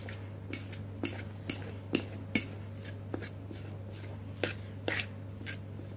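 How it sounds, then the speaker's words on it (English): Potatoes being mashed with room-temperature butter in a bowl, heard as a series of soft, irregular clacks and taps of the masher against the bowl over a steady low hum, fairly faint and close. "And then continue mashing with the butter"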